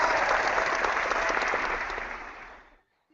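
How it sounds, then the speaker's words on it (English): A round of applause from an audience: dense, steady clapping that holds strong for about two seconds, then tapers off and fades out into silence. "A round of applause to you, sir."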